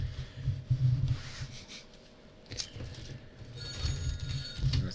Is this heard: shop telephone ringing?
yes